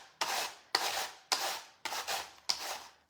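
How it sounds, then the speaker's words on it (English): Cabbage grated very finely on a plunger slicer, five rasping strokes in a steady rhythm, each a loud scrape that fades before the next, close up with no talking. "this is making a really fine grate"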